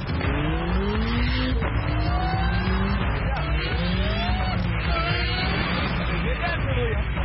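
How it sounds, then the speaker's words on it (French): A loud car engine roars and revs with a supercharger whine climbing in pitch repeatedly as it spools up, continuous and close, with voices mixed in. "t'entends le compresseur qui se met en route"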